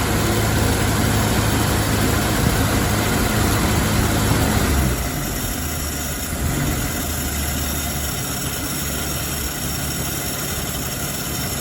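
A 1951 Plymouth engine idles steadily after years of sitting, its carburetor leaking fuel; the low rumble runs loud and even, then drops slightly in level partway through and carries on with a continuous mechanical hum and no talking.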